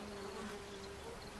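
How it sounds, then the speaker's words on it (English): Dense swarm of mosquitoes and black flies in Arctic wilderness, a steady close whining buzz with a sustained drone, quiet and continuous throughout with no talking. "millions of mosquitoes buzzing all over the place"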